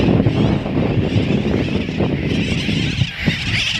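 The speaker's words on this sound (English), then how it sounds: "Those are sooty terns. Most of the island has sooty terns." Dense colony of sooty terns calling on Baker Island, a continuous overlapping clamour of many birds at once, loud and close with some wind.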